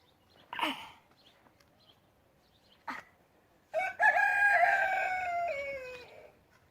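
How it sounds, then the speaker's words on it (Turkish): A rooster crows once, loud and drawn out, after a couple of short clucks or calls from nearby fowl in an otherwise quiet setting. "Tavuklarımız da burada."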